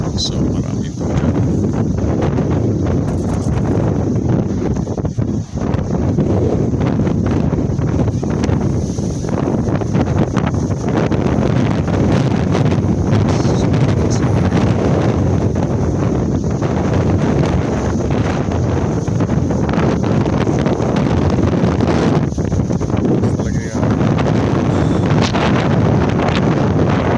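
Strong wind from Typhoon Rolly in Cavite buffets the microphone in a constant loud roar that goes on without a break, with talk faintly underneath.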